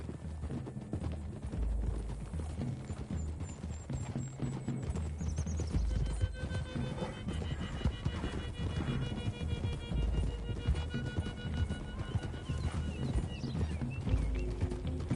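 Horses gallop in the video game Red Dead Redemption 2, with steady rapid hoofbeats over wind and rumble, a brief whinny and faint background voices.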